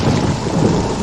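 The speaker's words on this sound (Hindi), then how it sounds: "बादल गरजने लगे, बिजली कड़कने लगी और जोरदार बारिश होने लगी।" Heavy rain pours steadily with a deep, continuous rumble of thunder rolling underneath, loud and enveloping throughout.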